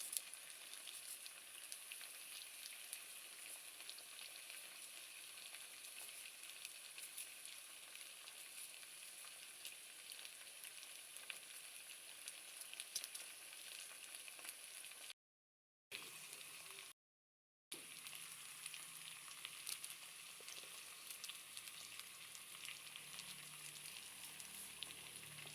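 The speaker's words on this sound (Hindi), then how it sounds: "प्याज डाल रहे हैं" Chopped onions fry in a pan with a faint, even sizzle that holds steady throughout, quiet and distant, broken by two brief dropouts of silence.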